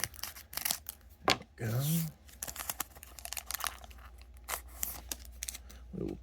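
A Magic: The Gathering Lord of the Rings Tales of Middle-earth draft booster pack being cut and torn open close up, bursts of crinkly foil tearing and rustling, with a brief spoken remark in between.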